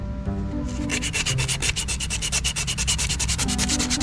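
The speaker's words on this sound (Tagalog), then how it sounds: "Kaya lilihain ko na lang siya konti." Rapid back-and-forth sanding of a brake shoe with sandpaper, a steady rhythmic scratching with many quick strokes, close and loud.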